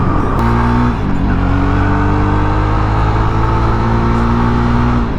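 A Jawa Perak motorcycle cruising on a highway, its engine a steady close droning hum with constant wind rush, holding an even pitch throughout.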